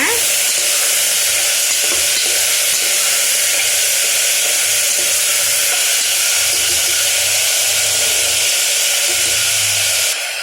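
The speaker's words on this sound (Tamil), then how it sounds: "இந்த கத்திரிக்காய் உருளைக்கிழங்கு ஆட் பண்ணிடலாம். ஆட் பண்ணி நல்லா ஒரு கலக்கி விட்டுக்கோங்க." Brinjal and potato sizzle and fry in an oiled pan for a Kovai-style poriyal, a continuous bright hiss with soft scraping stirs underneath, close and steady, no voices.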